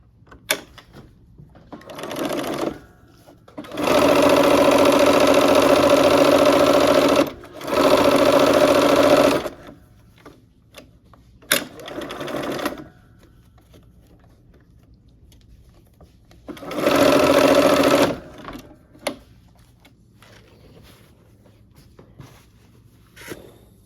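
A sewing machine stitches the border seams of a quilt in three loud sustained runs, separated by quiet pauses with small clicks and handling noises.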